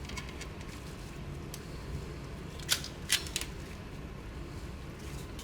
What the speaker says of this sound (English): Okay, so now I'm going to cut this wire.